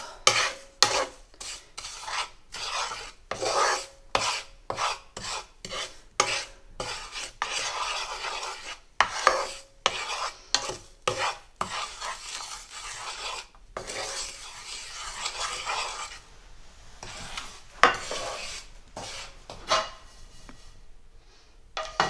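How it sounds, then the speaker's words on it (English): Ingredients for reshami malai chicken are crushed in a pan over the heat. Repeated rasping, scraping strokes come in an uneven rhythm, close and fairly loud, with no talking. "I'm just giving them a little crush as well, just to break them up a bit and release a bit more of that flavour and smell."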